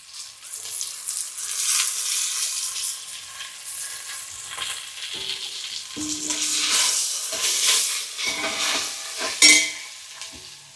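Coriander and mint leaves fry and are stirred in a pan for a prawn biryani, bright crackling sizzle rising and falling with stirring swells and a sharp clink near the end, close and without talk.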